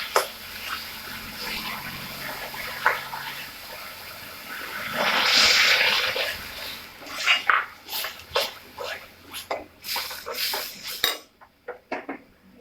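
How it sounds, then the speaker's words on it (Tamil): Water is poured into a pan of idli kurma with onion and ground paste, a brief rushing splash near the middle, followed by scraping, stirring and clinking of a utensil against the pan, close and uneven. "ஒரு பெரட்டிட்டு தேவையான அளவு தண்ணி விட்டுக்கலாம்"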